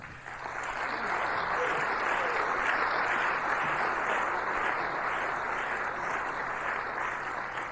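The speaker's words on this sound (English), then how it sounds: "You're applauding yourselves" A convention audience applauds, a soft, even spread of many hands clapping, somewhat distant and steady throughout.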